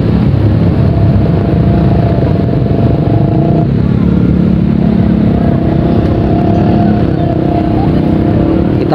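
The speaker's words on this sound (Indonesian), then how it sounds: "Dan kita lihat ini mesin eskavator" An excavator engine runs loud and close beside a river normalization project, with a steady diesel drone and hydraulic strain. The pitch shifts slightly midway and the drone continues throughout.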